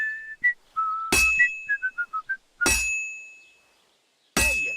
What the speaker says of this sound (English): When I hammer a piece to a beat, the work goes by easier. Sometimes I'll whistle to myself to keep the rhythm going.